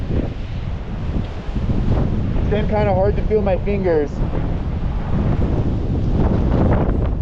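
Strong winter wind on Mount Washington's Lion Head route roars steadily into the microphone as a loud, constant rumble, while someone speaks over it.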